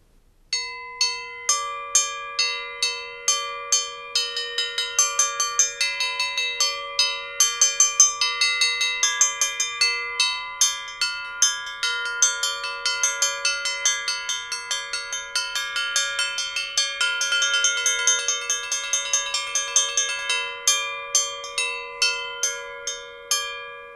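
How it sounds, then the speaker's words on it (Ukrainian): Several flat metal bila bells played together in a church-style peal, with bright overlapping strikes in a fast, continuous pattern for over twenty seconds before thinning out near the end. "як грають майже декілька дзвонів одночасно."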